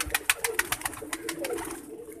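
Pigeons in a breeder's loft give a quick run of soft, rhythmic pulsing coos and wing-like flutters, fairly close, followed by a lower steady murmur without talk.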